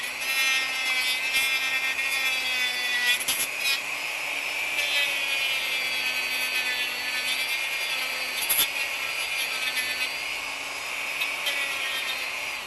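Steady, high-pitched whining of a small rotary tool rounding off the edges of a plastic plunger part for a Longstrike blaster, held at a constant pitch throughout with a couple of brief scraping touches, close and alone.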